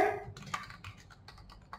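Keyboard typing while writing HTML/CSS code for a landing page, a quick run of light key taps close up over faint room noise, no speech.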